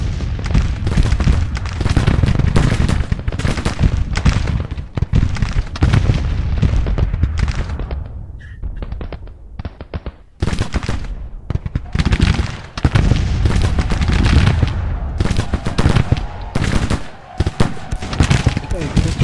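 Rapid musket volleys and booming artillery in a Civil War battle game, dense crackling gunfire with heavy thuds, loud and nearly continuous apart from a brief lull midway, while someone talks over the battle.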